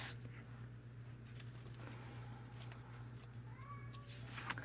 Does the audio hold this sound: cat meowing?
yes